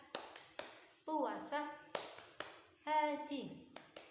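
Children in a classroom chant in a rhythmic pattern and clap sharply between the phrases, giving quick, evenly spaced claps with sung syllables and tones in between.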